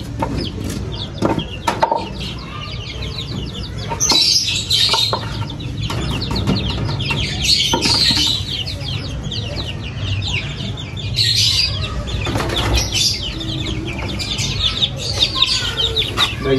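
Chicks and chickens in a wire-mesh enclosure chirp and cluck continuously, with bursts of wing flapping and scuffling throughout, fairly loud and close, with no speech.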